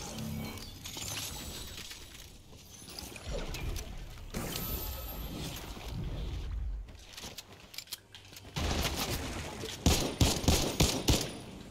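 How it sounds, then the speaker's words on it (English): Infantry rifle gunfire in Fortnite, sharp cracking shots with a quick cluster of loud bursts near the end among game noise, no talk. "that infantry rifle was really satisfying right there with the headshot"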